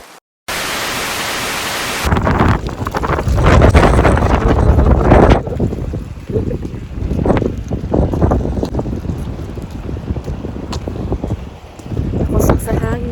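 Strong wind roaring across the microphone during a snowstorm in Toronto, a loud continuous buffeting rush with gusts rising and falling throughout and no clear talk.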